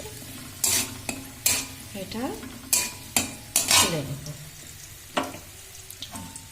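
Ingredients for fried rice are stirred and tossed in a pan, with sharp repeated scraping strokes over a faint sizzle, close and fairly loud, and a voice speaks briefly.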